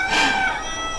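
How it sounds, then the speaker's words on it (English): A rooster crows once, loud and bright, then fades into a steady background of poultry noise with no voices. "you can probably hear our chickens in the background"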